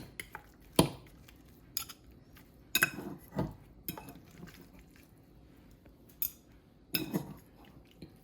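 Utensils clink and scrape against a pot as shredded pork is moved into a crock pot, several sharp metallic knocks spaced irregularly across a quiet kitchen.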